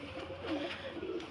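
Soft cooing of pigeons in a loft, low and gentle murmuring calls over a faint ambient hum, fairly quiet and close.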